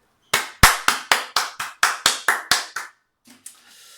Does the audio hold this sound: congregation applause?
yes